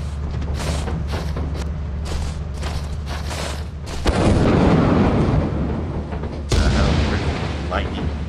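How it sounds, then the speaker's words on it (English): Lightning bolts strike on the Titan moon in the video game Lethal Company, booming like cannon fire: loud, deep blasts land in quick succession, each crack followed by a long, heavy rumble. "Those are the lightning bolts."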